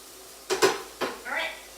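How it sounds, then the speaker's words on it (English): Onions, garlic, chili powder, cumin and oregano being stirred in a pan for jackfruit tacos, a few brief close scrapes and clanks of a utensil over a soft sizzle, no talking. "I'm going to mix this around"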